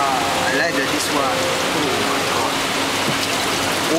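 Hailstones fall in a dense, steady, loud patter that fills the whole stretch without pause, with faint voices in the background.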